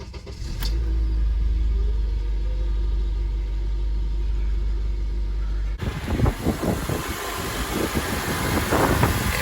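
Honda Element engine starting and idling: a steady low rumble runs first, then a sharp catch as the engine fires into an uneven, throbbing idle up close.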